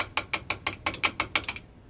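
Eight sharp, evenly spaced metallic taps on a stuck Kawasaki KZ400 carburetor part, driving it back through; close, crisp and alone, stopping after about one and a half seconds.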